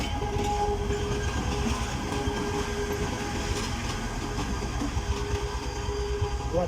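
A train rolls steadily along the rails near Sylhet, a continuous loud rumble with rhythmic clickety-clack, faint tonal whine and wheel noise throughout, heard from on board with no talk.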